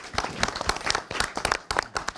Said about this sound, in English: Let's give another round of applause for Margaret Ann and the family.